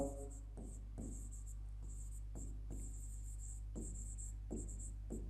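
Chalk or marker strokes on a board during a physics lesson on distance and displacement, a series of short scratchy bursts repeating every second or so over a steady low hum, fairly faint and close.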